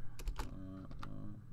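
A Commodore 64 keyboard clacks as keys are pressed, a few sharp close taps in quick succession, then a couple more spaced presses, with no voices.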